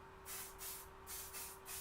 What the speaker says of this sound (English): And then I spray it on, just a little bit.